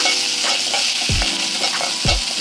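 Green chillies and spices fry in hot oil for chicken biryani, a bright continuous sizzle broken by a couple of low scraping stirs of a spoon in the pan, close up with no talking.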